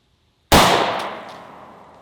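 A single sharp, loud gunshot from a Hi-Point pistol firing a 115 grain Sig V Crown round, a sudden close blast that rings out and decays over about a second and a half.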